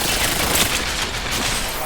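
Rapid sustained gunfire from D.Va's mech in the Overwatch video game, a dense continuous burst of shots with game effects and a voice mixed in.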